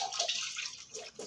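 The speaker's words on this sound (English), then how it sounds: "So I'm washing my hands." Hands washed under running water at a bathroom sink, a close splashing stream with small irregular bursts as hands move through it, brief and unaccompanied by talk.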